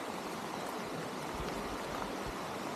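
A river on a rural farm flows in a constant, broadband rush of water, steady and fairly faint, with no voices over it.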